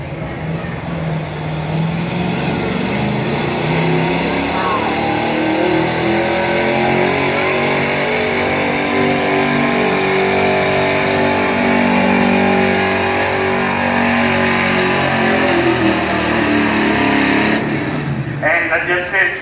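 A 1975 Chevrolet truck engine revs hard and drones steadily throughout a county fair truck pull, loud and sustained, with an announcer talking over it.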